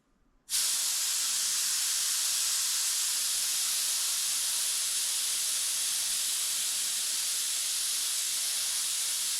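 An airbrush sprays paint, its compressed air starting abruptly and then holding a loud, steady, close hiss without a break for several seconds.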